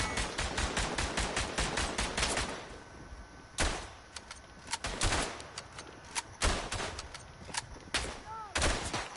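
Rifle and machine-gun fire rattles through a World War I battle in the shooter game Verdun: dense, rapid volleys of sharp cracks, some close and loud, others distant, with brief lulls between bursts.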